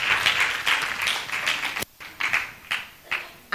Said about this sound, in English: give Sharifa a round of applause